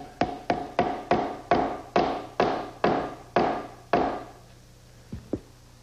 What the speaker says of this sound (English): if it needs a little help at the end, a block of wood and a hammer will do the job